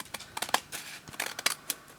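Long scissors snipping through patterned craft paper while making a mini journal, a quick run of sharp, close crisp cuts in an irregular rhythm with no talking.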